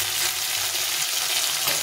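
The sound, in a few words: frying in oil with hilsa fish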